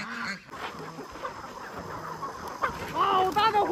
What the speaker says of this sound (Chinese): 现在去喂鸡啊，戴上防毒面具啊